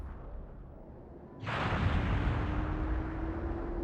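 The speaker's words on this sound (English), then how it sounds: "That cannon we ran through, it just exploded." A cannon exploding in the video game Skies of Arcadia Legends bursts in suddenly after a quiet lead-in, a loud, broad blast that rolls on into a sustained rumble with a faint steady tone beneath.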